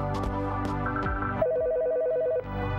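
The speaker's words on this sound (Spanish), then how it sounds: "Ojo, que llaman al teléfono rojo" A red telephone rings in the Police Stories video game: a single sustained trilling ring lasting about a second, close and clear, after a stretch of game music.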